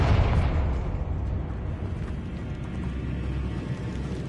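A fiery Confringo spell bursts in Hogwarts Legacy on PS5, opening with a loud, deep blast that settles into a dense, rumbling roar of flame and debris.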